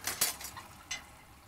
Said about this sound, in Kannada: ಇಷ್ಟೊಂದು ಪಾತ್ರೆಗಳು